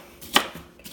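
A kitchen knife chops onions for sofrito on a cutting board, giving two or three sharp, close knocks within about a second.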